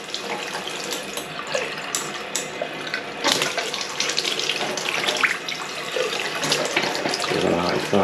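Tap water running after a repaired copper pipe, a steady splashing flow into a sink that grows stronger partway through, with brief sputters as air clears the line and occasional voices mixed in.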